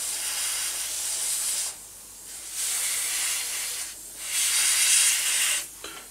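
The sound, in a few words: airbrush spraying Dove Grey paint on model kit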